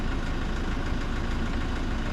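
A vehicle engine idles steadily and loudly close by at a beach outing in Palawan, a constant low rumbling drone with a faint rhythmic knock throughout.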